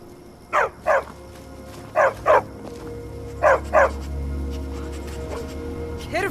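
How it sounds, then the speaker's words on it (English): A dog in the video game Skyrim barks in three evenly spaced pairs of sharp, loud barks over a low ambient game background. "Stupid dog."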